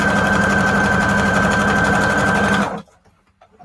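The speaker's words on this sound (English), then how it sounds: "Then I'm also going to do some extra stitching" A sewing machine stitching through a cardstock journal cover hums in a loud, fast, steady mechanical whir up close, then stops abruptly, leaving near silence with a few faint handling sounds.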